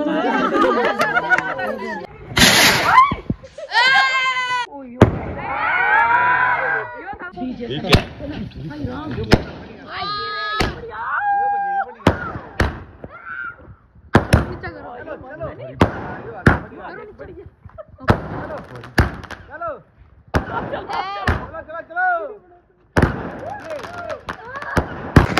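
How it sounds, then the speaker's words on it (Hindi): At a home Govardhan Puja celebration, firecrackers and an anar fountain go off in sharp bursts, pops and crackling showers, some loud and near. Lively chatter and shouting run between and beneath the bangs. "अभी अनार की बारी, लाइव चल गया।"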